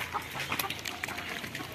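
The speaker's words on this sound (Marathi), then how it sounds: "ह्याला आमच्याकडे मान कापा कोंबडा असं म्हणतात" A red-necked rooster in a Konkan village at Terwan near Rajapur gives a few short, close clucks, each sharp call standing over quiet outdoor background with no talk.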